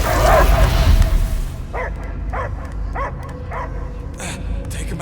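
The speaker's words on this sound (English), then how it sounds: "I hear only barking." In a video game, a dog gives a run of four or five short, evenly spaced barks at moderate volume after a louder rumbling noise fades out.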